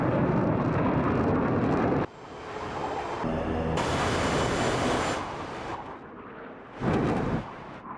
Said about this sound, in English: Cruise control on the Hornet.